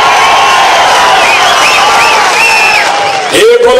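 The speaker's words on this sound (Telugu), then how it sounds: "మీరు కూడా గట్టిగా చప్పట్లు కొట్టి అభినందించాలి" A large rally crowd for Sidda Raghava Rao roars and cheers loudly and continuously, dense and close, with a voice rising briefly near the end.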